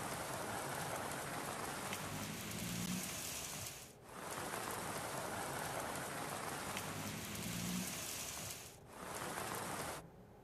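Torrential monsoon rain pours down across the plains of the Terai in Uttarakhand, a loud, dense, steady hiss of drops drumming on surfaces that fills the whole stretch, dipping only briefly twice.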